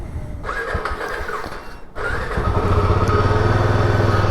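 A Royal Enfield motorcycle engine runs close by, a steady throbbing idle that briefly dips near two seconds and then returns louder with a deeper, more prominent low rumble.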